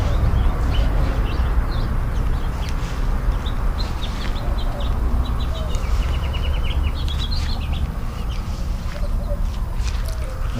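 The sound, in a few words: birds singing in a garden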